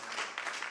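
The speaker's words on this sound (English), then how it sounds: "Beautiful, beautiful clap from the audience there." At a live regional Tetris tournament, the audience claps briefly, a few soft, quick bursts heard faintly from a distance.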